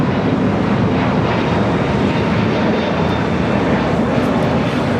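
An Airbus A321neo roars steadily on its takeoff run at LAX, a loud, continuous broadband engine rumble holding level throughout with no pauses.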